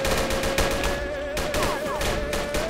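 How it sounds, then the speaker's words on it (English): Rapid gunfire bursts in a Roblox hood game, loud overlapping shots crackling almost continuously over a few seconds with no speech. "Why are they shooting inside the gun store, though?"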